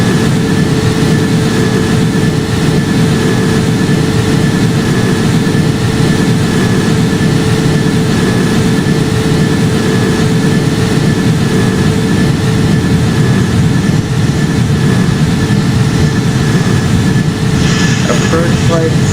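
Jet engines of an Airbus A330 on landing approach in the Project Flight flight simulator game, a loud, unbroken roar that holds steady throughout, with a voice speaking over it.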